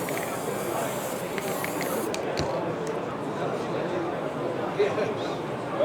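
A steady hissing spray of glue runs continuously from an aerosol or spray bottle onto model railway scenery, fairly close, with a few faint clicks along the way.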